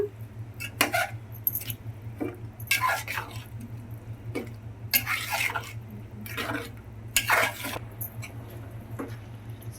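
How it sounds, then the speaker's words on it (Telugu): Brinjal and potato pieces are stirred into a masala gravy in a pot, giving a series of soft, wet scraping and clinking strokes at a steady pace over a low constant hum, close and moderately loud. "సో ఇప్పుడు వీటిని చక్కగా కలిసేటట్టు గ్రేవీలో కలిపేసుకుందామండి ఇలాగా"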